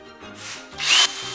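A short burst of hand drilling, a rough grinding whir that builds and peaks near the end, close by with no talking.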